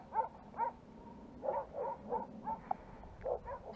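Several dogs bark in short, spaced bursts on a rural hillside, moderately distant yips and woofs repeating in an uneven rhythm, with no talk over them.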